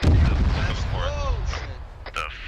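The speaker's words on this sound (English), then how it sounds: "We just took an RPG. That, this 2-3, that was explosion outside of the town, about 150 meters to the south, over." An RPG explosion in a military video game lands as a heavy low boom at the start, followed by fading rumble and faint radio chatter.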